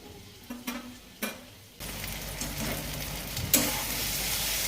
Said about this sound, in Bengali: জাস্ট 2-3 মিনিটের মতো একটু নাড়াচাড়া করে ঢাকা দিয়ে দেবো